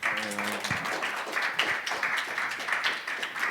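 Audience applause at an XR industry conference in Korea, steady many-handed clapping at a full, even level across the whole stretch, with a brief voice at the very start.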